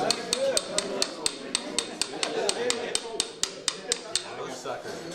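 Sharp metal hammer taps strike repeatedly, about a dozen evenly spaced blows, to free a stuck part on a small skiff under construction, with workshop voices talking throughout.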